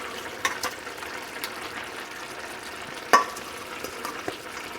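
Rice simmering in a pot with pig tails just added, a soft steady bubbling and sizzling hiss with faint clinks and stirring scrapes, one brief louder knock partway through.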